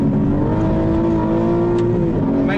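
Aston Martin V12 sports car, rear-wheel drive with a short wheelbase, revving hard while driving, its engine note loud, steady and close with a rising pitch near the end and no talk over it.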